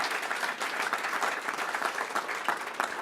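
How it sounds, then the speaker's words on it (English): A theatre audience claps steadily and fairly loudly, a dense patter of many hands sustained throughout without voices. "One never likes to assume there'll be an applause there"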